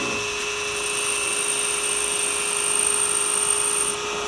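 Jinwen mini lathe cutting metal with a quick-change toolpost setup, giving a steady, loud high-pitched whine with a sustained tonal ring, running continuously with no voices.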